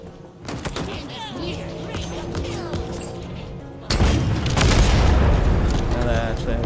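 Heavy explosive booms and rapid weapon fire from a rocket launcher battle in the Halo Infinite campaign, a dense continuous barrage that grows louder and fuller partway through.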